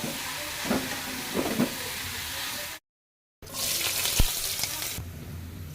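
Tempering spices hitting hot oil for cooked gourd leaves, a loud hissing sizzle that cuts out briefly, then returns even louder and fades to a quieter crackle.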